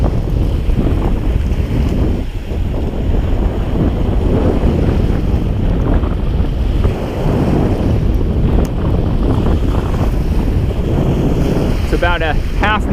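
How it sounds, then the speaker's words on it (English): Strong southeast wind at 15 to 20 roars and buffets the microphone throughout on a shoreline at night, a constant loud rush with water sounds underneath. "Pretty windy. It's blowing 15 to 20 out of the southeast."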